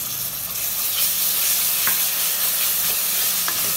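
Ginger-garlic paste and garam masala sauté in a pan for chicken curry, making a continuous, close frying sizzle with occasional light stirring scrapes.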